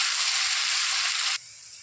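Onions frying lightly in a pan for a chicken kosha, a bright steady hiss and sizzle that cuts off abruptly partway through, leaving quiet background.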